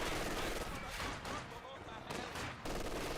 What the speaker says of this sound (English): Artillery barrage at your command.